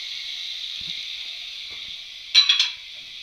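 A steady hiss of tomato paste and onions sizzling in a stainless steel pot, with a brief scraping stir near the end.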